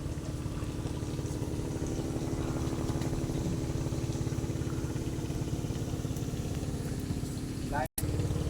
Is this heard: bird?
no